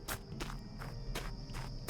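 Footsteps of a player character walking in the video game Kaku: Ancient Seal, a steady quick rhythm of soft crunching steps, about four per second, close and even, with no talk over them.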